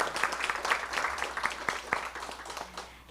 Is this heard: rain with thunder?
no